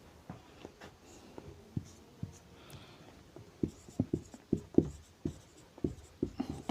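Pen writing numbers by hand on paper, a steady series of soft scratches and taps growing slightly busier toward the end, close and quiet, with no talking.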